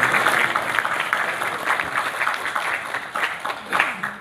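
A seated audience at a book discussion on Islam in Indonesia gives steady applause that runs for about four seconds at moderate level, with uneven claps throughout.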